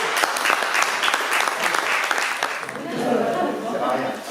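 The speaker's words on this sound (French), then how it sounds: "On peut les applaudir peut-être?" Council members and attendees at a town council installation meeting applaud together, a dense, steady clapping that fills the room, fading and thinning toward the end as murmured voices take over.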